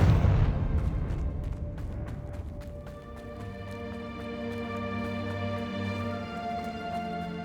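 A Confringo blasting spell explodes in Hogwarts Legacy with a loud opening burst that decays into a crackling, rumbling tail, followed by sustained tonal hums and scattered clicks.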